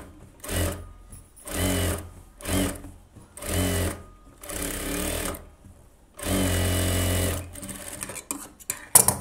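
Sewing machine stitching a silk pattu pavadai blouse, running in several short, loud start-stop bursts with one longer steady run near the end.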